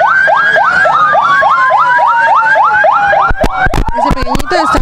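An ambulance siren at an earthquake drill in Chincha wails loud and close in fast, repeated rising sweeps, with sharp knocks and clatter breaking in over the last second and a half.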